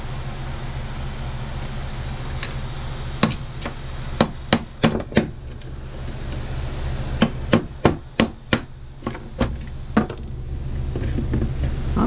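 A chisel struck against a part on an original Xbox circuit board, a series of sharp metallic taps in irregular clusters, loud and close over a constant background hum.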